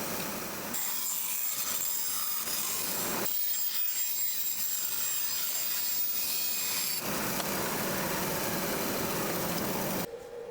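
Cutting a thin acoustic guitar side clamped on a cherry wood support, a loud steady rasping saw-like grind in long sustained passes, separated by short pauses, with no talking.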